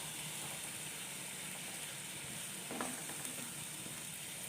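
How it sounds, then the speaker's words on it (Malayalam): Onion and masala cook in a pan with hot water added for an anchovy masala fry, giving a steady, faint hiss and gentle bubbling with a couple of small scrapes, and no voices. "ഇതിൽ കിടന്ന് ഈ ഉള്ളിയും മസാലകളെല്ലാം ഒന്ന് നന്നായിട്ട് തിളച്ചൊന്ന് വേകണം"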